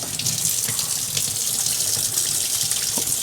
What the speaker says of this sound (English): I know the water's loud too